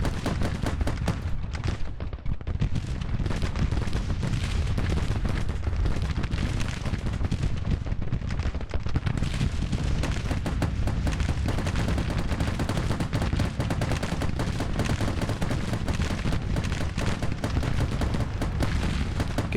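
Cannon and gunfire rumble without a break through a large Grand Tactician battle, dense booming and crackling volleys that overlap at a steady high loudness.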